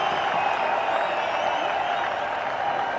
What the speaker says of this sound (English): Crowds are jubilant.